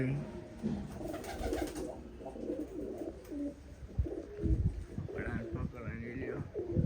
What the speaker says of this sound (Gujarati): કેટલા કબૂતર છે, એમાં કાંઈ ઘટે નહીં